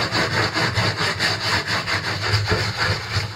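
Small pieces scrubbed with soap, a steady rhythmic back-and-forth scrubbing close up, about seven strokes in quick succession with no voices.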